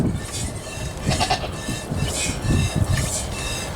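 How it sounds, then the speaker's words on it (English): A dairy goat on a farm with milking does bleats in several nasal calls that repeat through the moment, close and fairly loud over a steady background noise. "She's being a milk goat."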